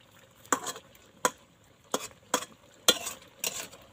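Food fries in a pan with repeated stirring: about six sharp scraping bursts come at a roughly even rhythm over a faint sizzle, close up and with no talking.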